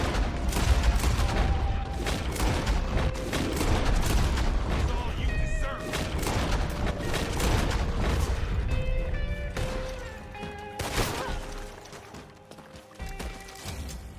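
Repeated pistol shots in the video game Red Dead Online crack out in uneven bursts over a busy mix of impacts, hoofbeats and game noise, with a voice talking at times.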